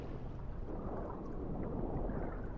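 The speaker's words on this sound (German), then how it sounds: "Ich höre zumindest einen Wasserfall." A constant, even rush of a waterfall roaring in the distance in the video game The Isle, with no other sounds standing out.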